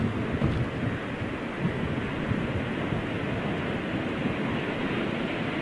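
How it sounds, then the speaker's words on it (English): Strong wind at London's Heathrow Airport, a loud steady roar and buffeting across the microphone that never lets up, with no voices. "Wind's starting to pick up."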